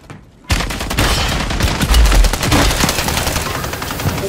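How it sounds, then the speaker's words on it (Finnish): Loud gunfire in Warzone Rebirth bursts in suddenly after a quiet moment, rapid machine-gun volleys with heavy booming thumps, dense and continuous for several seconds. "Joku ampu."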